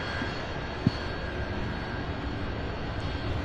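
An airplane takes off at Louisville SDF airport, a constant moderate engine roar heard from some distance, with one brief sharp click near the start.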